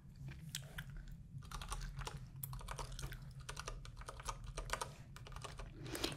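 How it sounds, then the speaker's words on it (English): Rapid typing on a computer keyboard as a gift card number is entered at a clothing store counter, with steady close key clacks over a low background hum and gum chewing mixed in. "Just gonna type in the gift card number real quick."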